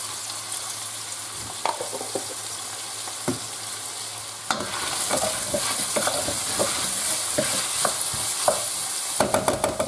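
Tomato, red and green peppers, garlic and onion sauté gently for a sofrito, a soft steady sizzle broken by scattered clicks and scrapes of stirring. The frying grows louder and busier partway through.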